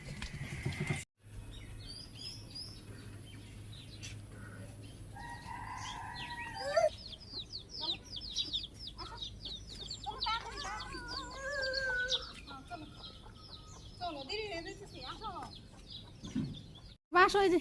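Chickens roam around a rural Bangladeshi homestead, giving repeated short clucks and chirpy calls throughout at moderate distance, with faint voices in the background.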